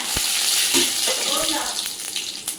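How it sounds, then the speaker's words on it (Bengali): Cumin, dried chili and bay leaf sizzle in hot oil in a wok as a tempering, a steady hissing crackle throughout. "এবার কড়াইতে ফোড়ন দিচ্ছি জিরে শুকনো লঙ্কা তেজপাতা"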